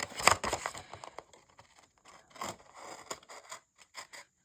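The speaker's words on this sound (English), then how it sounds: "Let me get my scissors." Soft snipping and scraping of scissors cutting through card, a few close, quiet cuts in short bursts.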